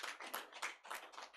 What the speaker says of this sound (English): you clap for these guys